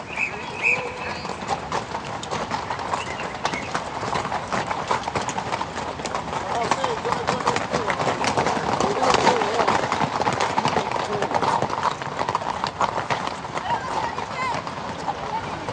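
Riding-school horses' hooves clip-clop steadily and briskly throughout at an equestrian exam, close and clear, with a voice talking over them.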